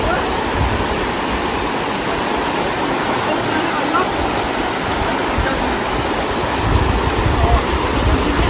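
Babai waterfall and river water rushing in a cave, a constant loud broadband roar with no breaks, swelling slightly near the end.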